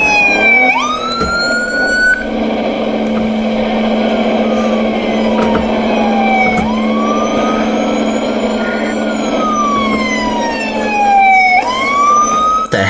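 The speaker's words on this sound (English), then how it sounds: "What the heck is an ambulance doing?" A wailing ambulance siren sounds in a police chase video game, rising and falling in long sweeping cycles, loud and close over a constant engine drone, with no talking.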